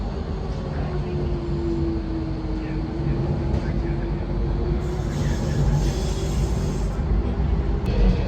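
Steady low rumble and hum of a Class 357 passenger train interior heard from a seat at the back, with a faint sustained tone running through and a slight rise in noise toward the end.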